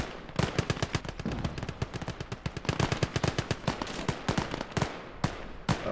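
Machine gun fire in the World War II strategy game Gates of Hell: rapid, loud bursts of sharp gunshots in dense rhythmic volleys, with brief pauses between strings of shots and no voices.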